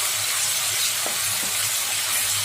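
Ginger, garlic and coriander paste sizzling steadily in a hot pan of oil for chicken fry, a close, continuous frying hiss with a couple of faint stirring touches and no voices.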